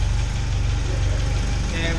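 A 1989 Volkswagen Cabriolet idles close by after its exhaust restoration, a steady, even low thrum with a regular pulse and no squeal, lasting two seconds.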